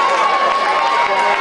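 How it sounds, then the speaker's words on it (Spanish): Live concert crowd at a Gente de Zona show in Cuba, a loud, dense wash of applause and cheering sustained throughout, with voices mixed into the roar. "Aplauso para los chamacos."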